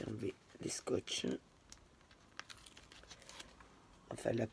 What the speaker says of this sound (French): Je vais enlever les scotch.